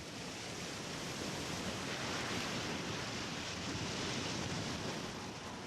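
Open sea surges against the unsheltered, reefless shore of Pitcairn Island in a continuous, broad roar of surf with no other sounds.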